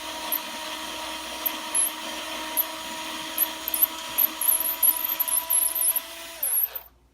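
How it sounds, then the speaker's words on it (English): A power drill bores a pilot hole in the body of a LUNA Tribal ukulele, whining steadily up close with small intermittent chatter and squeaks as it bites, then winding down and stopping near the end. "And we see we got a pilot hole drilled there."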